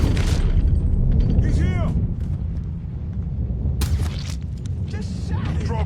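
Gunfire in the video game Mafia III lands as heavy booming shots mixed with game sounds, with a loud shout over the top and more voices breaking in near the end.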